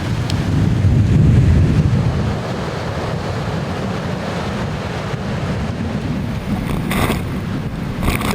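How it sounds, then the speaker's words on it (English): Strong, gusty wind roars across a beach during near gale-force kiteboarding conditions with blowing sand, a loud continuous buffeting that swells heavily at first and then holds steady, with surf rumbling underneath and no voices. "Super windy, really gusty."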